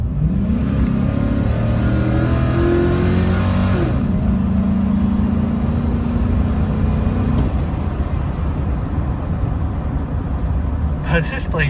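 A stock 2005 Chevy Silverado pickup accelerates hard from about 30 mph, its engine roaring loud and steady with rising pitch through gear changes, heard from inside the cab.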